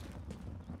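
Horse hooves clip-clopping in a medieval-themed video game, a few quick, faint muffled beats in a short burst.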